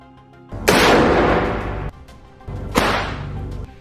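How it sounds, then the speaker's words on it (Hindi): Two loud, sharp sniper rifle cracks a couple of seconds apart, each ringing out with a long echoing tail, no voices. "स्नाइपर राइफल से उनके ऊपर ताबड़तोड़ गोलियां दाग देता है।"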